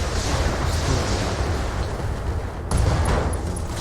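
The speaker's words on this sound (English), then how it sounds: "we got an explosion" A mech battle in the video game Battletech produces a heavy, rumbling explosion, a dense roar that swells again in a second loud burst partway through.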